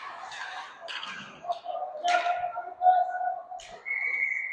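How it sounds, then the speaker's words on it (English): A referee's whistle gives a short shrill blast near the end, heard during a youth ice hockey game. Arena noise and voices talking surround it. "And here comes the whistle."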